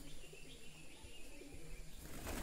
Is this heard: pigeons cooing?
yes